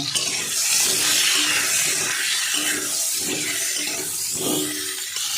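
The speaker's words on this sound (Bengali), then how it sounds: "একটু লবণ দেব আর একটু হলুদ দেব, দিয়ে পটলগুলো একটু ভেজে নেব" Pointed gourd pieces with salt and turmeric fry in a pan, a loud, dense, even hiss of oil filling the whole stretch with faint low stirring bumps underneath; close and unbroken, nobody speaking.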